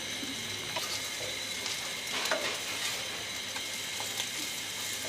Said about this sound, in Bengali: আমার ডিমটা ভাজা শেষ হয়ে গেছে